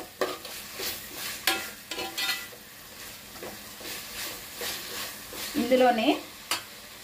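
Thinly sliced tomatoes frying in a pan for Rayalaseema-style bagara rice, a steady sizzle broken by stirring scrapes and spoon taps, with a brief spoken word over the cooking.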